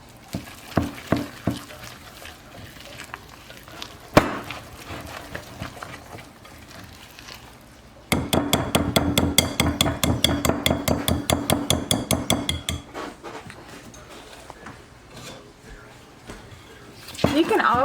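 Banana nut muffin batter being mixed by hand in a bowl, a quick steady run of rhythmic clinking spoon strokes in the middle, with scattered knocks and taps around it and people talking throughout.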